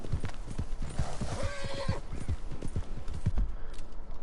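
Horse hooves gallop in the video game Red Dead Redemption 2 with a steady, rhythmic clip-clop, and a brief whinny rises in the middle over constant background game sound.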